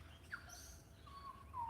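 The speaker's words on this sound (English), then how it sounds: "I've got a cockatoo up in the tree up there. And they're making all the noises for you, Paul." A cockatoo and parrots calling from a tree, faint short chirps and a thin whistled note at a distance over low background hum.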